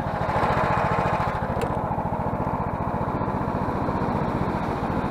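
A snowmobile engine runs steadily and loudly while driving out to check fox traps in snow: a continuous close, buzzy drone with a fast regular pulse and no break.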